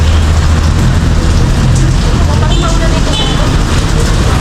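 Steady rain patters down with a continuous broadband hiss, while voices talk faintly underneath throughout.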